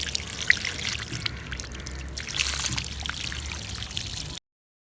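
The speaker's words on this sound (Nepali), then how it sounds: "यहाँ हेर्नुहोस्, लेदो पानी आइरहेको छ।" Dirty, muddy water pours out of a household drinking-water tank being cleaned, a close, steady splashing stream with a trickling edge that runs for about four seconds, then stops abruptly.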